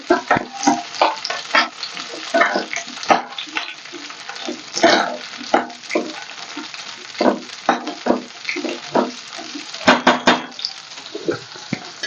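Green chillies are stirred in hot oil in a pan, with a continuous sizzle and repeated scraping and clinking of the spoon against the pan in an irregular rhythm, close up.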